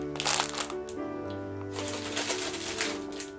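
Crinkly rustling of a plastic bag of dried goods such as walnuts and raisins being handled up close, with a loud burst at the start, steady crackling throughout and a faint background of rural sounds.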